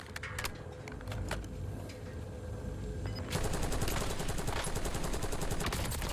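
Krig assault rifle fire in the Warzone video game: rapid repeated gunshots, sparse at first and then a dense sustained burst, loud and close.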